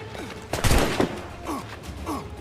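Gunfire in the video game Assassin's Creed Freedom Cry: a loud burst of shots around the first second, followed by softer gameplay clanks and creaks.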